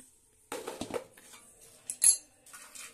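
Prawn head curry is served into a bowl, with a few light clinks and scrapes of utensils against dishes, close and fairly quiet, separated by brief pauses.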